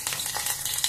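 Mustard seeds sizzling and crackling in hot oil with garlic in a pan, a steady close frying hiss with small popping bursts, heard alone.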